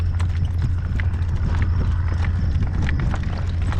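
A horse's hooves clop in a steady working trot across a field on a blustery, windy day. The rhythmic footfalls are close and loud over a strong low rumble of wind.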